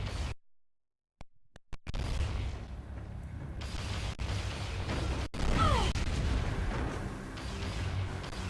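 Explosions in Metroid Prime 3 boom after a brief silence, followed by sharp cracks, a dense rumbling bed and a couple of heavy blasts, loud and close with no voices.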